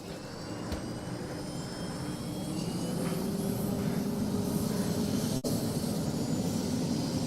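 Helicopter in the Antistasi military game flying steadily, a continuous broadband engine and rotor roar with a faint higher whine, even in level throughout with one brief dropout near the end.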